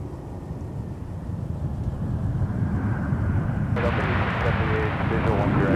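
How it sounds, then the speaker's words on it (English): An Airbus A320 arrives on runway 12 right at Minneapolis–St. Paul airport, its engine roar swelling steadily and turning suddenly louder and brighter near the end, with a distant broad rumble underneath. "More arrivals on 12 right. It's an Airbus"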